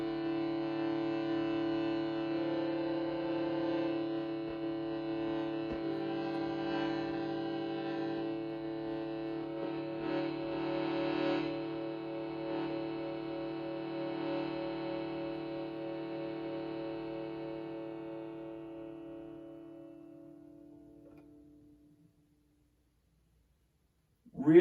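A small accordion sustains reedy chords, shifting pitch several times as it is squeezed, then fades out near the end.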